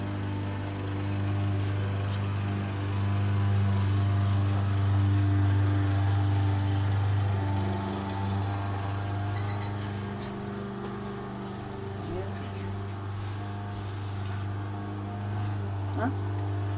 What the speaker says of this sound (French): C'est le voisin encore avec sa tondeuse.